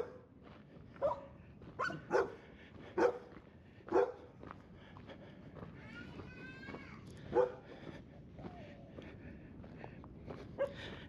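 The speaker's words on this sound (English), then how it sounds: "This dog really wants to jump on me." A dog barks repeatedly on a beach in Playa Poneloya, Nicaragua, giving a series of sharp, fairly close barks and yips at an uneven rhythm over soft background noise.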